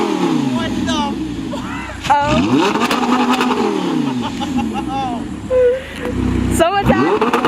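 An Audi R8 V10 fitted with an Armytrix titanium exhaust, in sports mode, revs loudly and repeatedly, its engine note sweeping up and down in sharp surges, with voices heard over it.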